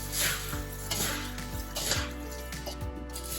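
Dry chivda ingredients for a crisp bhadang murmura shev chivda, puffed rice and sev, tossed and mixed in a pan, giving repeated scraping clatter and rustling at a steady rhythm, close and fairly loud with no talk.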